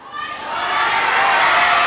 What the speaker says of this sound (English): It's a huge crowd, everyone.